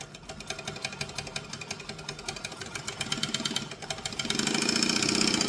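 A sewing machine top stitching a seam with stitch and back stitch, a fast steady mechanical chatter close by that speeds up and gets louder near the end, with no talk.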